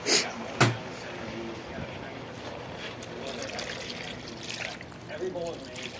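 Water is poured into a pan while adobo chicken feet cook, a soft trickling splash under ongoing conversation, with a sharp clank near the start.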